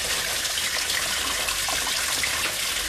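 Water gushes steadily from a tap into a container, a continuous close splashing pour with no talk over it.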